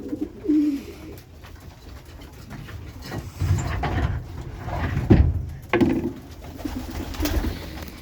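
Low, soft cooing from several pigeons close by, in intermittent bursts with occasional knocks and rustling, no talk.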